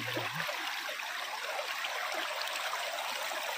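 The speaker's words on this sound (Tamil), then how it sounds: "24 மணி நேரமும் சலசலன்னு ஓடிட்டு இருக்கக்கூடிய இயற்கை நீரோடை பகுதி" A natural stream on farmland flows steadily, an even bright rushing and babbling that holds constant throughout, close and unbroken.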